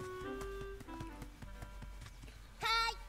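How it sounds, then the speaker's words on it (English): Horses at Hyrule Ranch in the game Zelda: Echoes of Wisdom, heard as rhythmic clip-clopping hooves over a game music background, ending in a brief whinny. "Now that I'm here, I can ride the horses"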